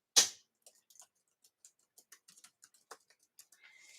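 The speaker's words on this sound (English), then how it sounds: "I'm going to currently type in the chat" Light, irregular keystrokes on a computer keyboard are heard as soft, sparse clicks in a quiet room while someone types into a live-stream chat, starting with one louder tap.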